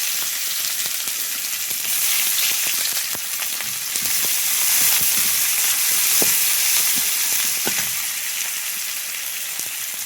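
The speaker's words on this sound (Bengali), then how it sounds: "কড়াইয়ে আর একটু তেল দিয়েছি, এবারে আমি ভাজাটা চাপিয়ে দেবো।" Oil frying in a kadai (wok) for a Bengali fish dish, a loud continuous sizzle and hiss up close with scattered sharp crackles, running throughout with no voices.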